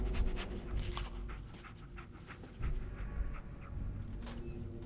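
Dogmeat, the dog companion in the video game Fallout 4, panting steadily and close by, with rhythmic breathy huffs over a low ambient game background.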